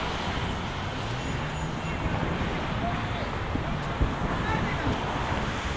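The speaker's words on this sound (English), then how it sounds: "It's a little windy, Diana." Steady wind buffeting the microphone outdoors near Coney Island, Brooklyn, a constant low rumble with faint background noise and no clear breaks.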